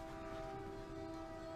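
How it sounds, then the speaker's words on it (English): A train passes nearby with its horn sounding, a loud sustained two-tone blast over a steady rumble that fills the whole moment. "And a train's coming, so you probably won't hear much."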